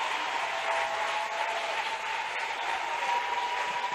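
A church congregation cheers and applauds for the Lord, a dense, sustained wash of clapping and voices filling the hall at steady volume.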